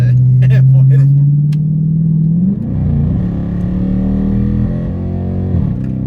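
A Mopar car's engine fitted with an SLP exhaust rumbles and revs up loudly close by, its pitch rising then settling into a steady growl, with a voice talking over it.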